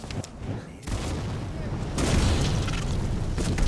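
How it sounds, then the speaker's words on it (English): Gunfire aimed at the player in a modded Skyrim, heard as dull booming blasts and crackling shots in a dense, loud game mix. "Who the hell's shooting me?"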